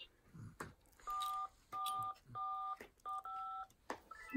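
Toy phone buttons pressed in a run of five or six short electronic beep tones, each steady and clear, with soft rustling and faint background noise between presses.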